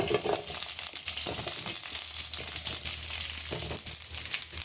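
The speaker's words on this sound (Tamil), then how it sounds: "ஆயில் நல்லா சூடாயிட்டு வந்துடுச்சு. இப்போ நம்ம கட் பண்ணி வச்சுருக்க கத்திரிக்காவை சேர்த்துக்கலாம்." Cut brinjal pieces sizzle steadily in hot oil in a pan, a continuous close frying crackle with occasional stirring, no talking.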